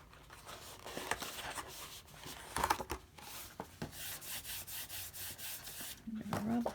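A folded paper card for a 3D shadow box book is rubbed by hand, producing soft scraping, brushing strokes in short irregular passes, close and fairly faint, with some handling clicks.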